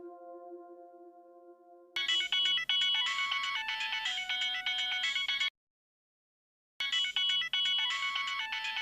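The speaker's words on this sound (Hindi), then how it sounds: "बहू का फोन है" A mobile phone ringtone plays a bright, repeating electronic melody, loud and close, cuts off for about a second, then resumes.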